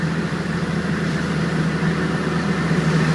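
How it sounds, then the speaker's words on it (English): Cummins diesel pickup with a 5-inch exhaust pulling up a hill, a steady low engine drone and exhaust rumble heard from inside the cab, constant and moderately loud with no talking. "Rick, that 5-inch exhaust sounds great! Man! Going right up this hill"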